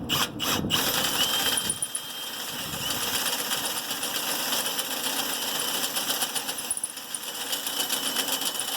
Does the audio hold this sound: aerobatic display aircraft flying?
no